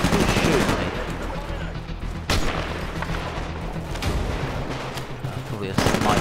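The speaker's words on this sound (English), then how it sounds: "Oh, he's shooting me." Automatic gunfire in the video game Titanfall, rapid bursts of shots with louder booms, close and continuous over game background, while a player speaks.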